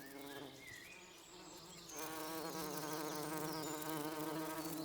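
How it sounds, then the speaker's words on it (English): Bees buzz around flowers with a steady, droning hum from their beating wings. The tone wavers as they move and grows fuller and closer about two seconds in. "The buzzing sound we associate with bees is a byproduct created by the beating wings as they fly."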